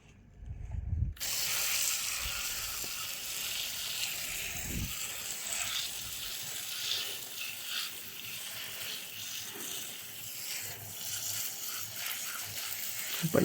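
A water jet hisses steadily against a Daikin 1.0 hp air conditioner during cleaning, a continuous close spray that begins abruptly after a moment of near silence and runs without pause.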